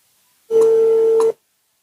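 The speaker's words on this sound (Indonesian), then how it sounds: "Saya telepon sih ya." A steady telephone tone, likely a dial or ringback tone for an outgoing call, sounds alone and loud for under a second, with faint clicks at its start and end.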